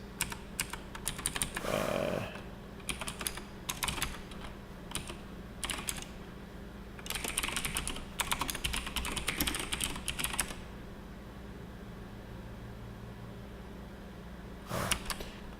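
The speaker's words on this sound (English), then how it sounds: "keep typing the old path." Quick bursts of typing on a computer keyboard, close-up clicks coming in short runs separated by pauses, over a faint steady hum of a fan or computer.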